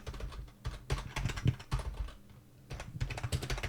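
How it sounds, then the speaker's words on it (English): Rapid bursts of typing on a computer keyboard, close and crisp, with short pauses between runs of keystrokes. "when we type text, write text,"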